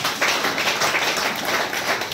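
Church congregation clapping hands in praise during a Sunday sermon, a dense, steady patter of many hands at close range with no talk over it.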